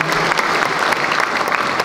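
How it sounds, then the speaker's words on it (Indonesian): Steady applause from a large audience at the 16th anniversary celebration of the Hanura party, dense continuous clapping filling the hall throughout without a break. "Tepuk tangan sekali lagi buat Hanura."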